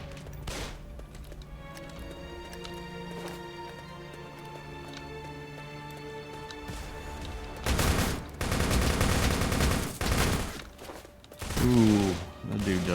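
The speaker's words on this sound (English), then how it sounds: "I wonder, can I shoot through the window?" Bursts of gunfire in the Darkest Days game, with sharp rapid shots clustered near the end and quieter game ambience and tones before them.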